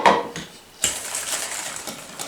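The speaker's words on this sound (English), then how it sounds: "And just whisk that for a couple of minutes." Whisking whole milk with instant Oreo pudding mix in a bowl, a close scraping, rattling swish that starts with a clink and then runs on steadily, fairly loud and with no talking.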